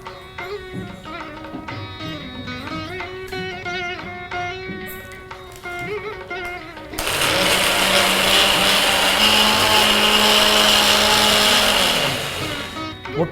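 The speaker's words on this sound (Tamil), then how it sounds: "முட்டைக்கோஸ் சொதையல் பண்றதுக்கான மசாலாவை அரைச்சு எடுத்துக்கிட்டோம் இல்லையா?" A kitchen mixer grinder starts up and grinds masala with garlic and a little water for a cabbage dish, a loud, steady whirring roar that runs for several seconds after quieter kitchen sounds.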